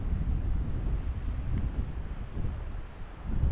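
Gusty wind blowing through a grassy Cheviot valley in Northumberland on a sunny morning, a continuous low rumbling buffet against the microphone with no voices.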